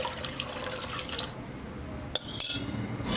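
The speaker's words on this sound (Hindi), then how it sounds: "अच्छी तरह हिला के आपने इसके अंदर डाल देना है।" Stirred cornflour mixture for Karachi halwa is poured into a pot, a soft liquid splash and trickle, close and fairly steady, ending with a couple of brief clinks.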